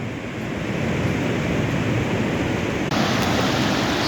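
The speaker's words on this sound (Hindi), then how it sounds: "समुद्र की लहरें।" Sea waves break and wash on Rajbag beach in South Goa, a loud, continuous roar of surf close by with no voices.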